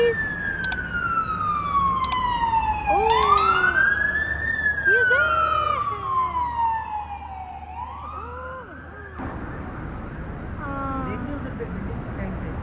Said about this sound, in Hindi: One more fire brigade is coming.